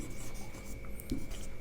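Chalk or marker scratches across a classroom board during a Hindi grammar lesson, a faint, uneven scraping of strokes over steady room hum.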